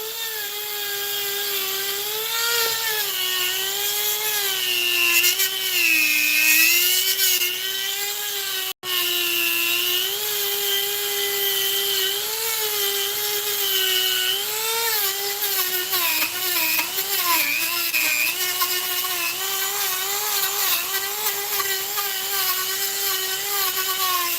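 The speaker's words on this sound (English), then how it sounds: "I got a lot of grinder heads, and I'll be able to put wrinkles and stuff in there with those grinder heads" A high-pitched rotary tool with grinder heads whines steadily while sculpting a mask, its pitch wavering up and down as the bit loads and frees, continuous and close for the whole stretch with one brief cutout.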